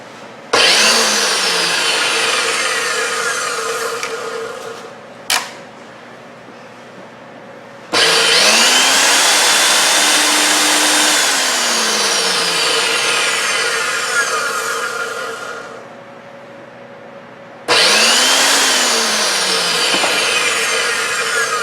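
The motor of a KitchenAid Professional 600 Series 6-quart bowl-lift stand mixer whirs in three loud runs with spin-up and spin-down whines between quieter gaps, close and with no voices.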